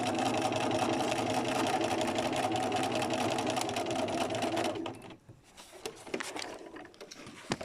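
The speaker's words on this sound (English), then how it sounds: "stitching around to hold it in place, and actually I could just go straight down" A sewing machine running a straight stitch over a fabric collage, a fast steady close whirring hum for several seconds before it stops, followed by quieter handling sounds of the fabric and machine.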